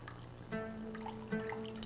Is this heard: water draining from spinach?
yes